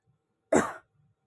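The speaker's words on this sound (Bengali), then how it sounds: "এত গলাটা খুসখুস করছে খালি কাশি হচ্ছে" A single short, sharp cough, close and fairly loud, with near silence before and after it.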